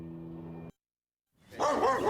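Dogs bark outside a house, a loud burst of barking arriving after a brief pause that follows an earlier stretch of sound.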